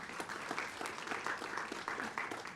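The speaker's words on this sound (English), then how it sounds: "You've got a clap for Sol." An audience claps for a university mechanical and aerospace engineering department's founding chair at a 60th anniversary event, a brief, fairly faint burst of steady mixed applause without speech.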